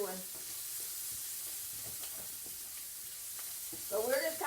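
Spam and eggs fry in a skillet with bacon grease, a soft continuous sizzle with faint crackles, close but quiet, and a voice comes in briefly near the end.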